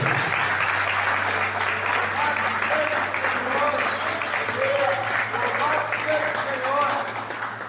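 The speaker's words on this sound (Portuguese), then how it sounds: "Pode aplaudir Jesus, igreja" A church congregation applauds steadily at a Wednesday worship meeting, a dense, continuous wash of clapping filling the room for several seconds, with faint voices and a low hum running underneath.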